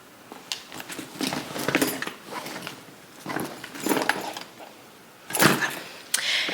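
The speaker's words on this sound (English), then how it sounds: "let me make sure I got my keys" Keys jangle in several short metallic bursts as someone arriving home checks for them, with clinks and rustles spread across the moment, moderately close with no talking.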